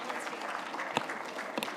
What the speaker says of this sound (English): I thought the claps are going to be louder for Mr. Parag.